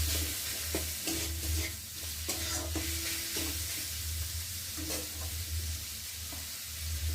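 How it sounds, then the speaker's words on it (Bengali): Chicken pieces fry and sizzle in a pan with chilli powder, a steady loud hiss running throughout while a spatula stirs and scrapes in short repeated strokes, with no talking. "দিয়ে চিকেনটাকে ভালো করে একটু ভেজে নেব।"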